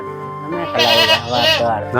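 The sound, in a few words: goat bleating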